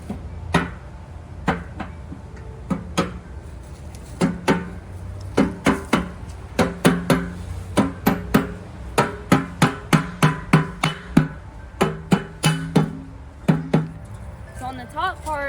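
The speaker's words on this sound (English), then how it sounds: "Use your mallet to hammer it in." A mallet strikes aluminum raised garden bed panels being assembled, giving a long series of loud, sharp knocks, sometimes single and sometimes in quick bursts, close to the microphone.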